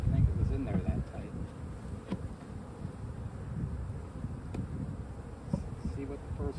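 Honeybees at an opened Layens hive, a few crawling on a pulled divider board: a close, steady buzzing hum fills the whole stretch without pause.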